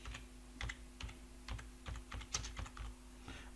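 Typing on a computer keyboard to enter spreadsheet cell text, an irregular series of soft close keystroke clicks over a steady low electrical hum, faint and without speech.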